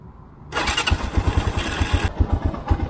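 A motorcycle engine cranks and fires up close by, settling straight into a rough, rhythmic idle after a short starter whir.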